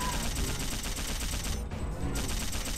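Dual submachine guns firing in Dino Crisis 2, a dense, continuous rattle of rapid shots that stays loud and unbroken, dipping only briefly near the end of the burst.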